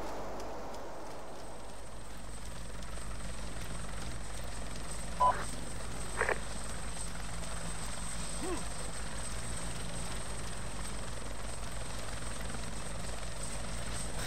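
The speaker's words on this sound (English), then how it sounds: "Oh, I hear the chopper." In a military game, a helicopter drones as a continuous low rotor rumble with a steady whine, holding even and moderately loud throughout, with a couple of brief sharp clicks partway in.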